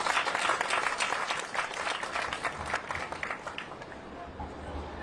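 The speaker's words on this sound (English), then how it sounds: "Can we give a round of applause to this amazing lineup of business owners" Steady applause from an audience at a Portland mayoral event fills the space, a dense wash of clapping that slowly eases toward the end.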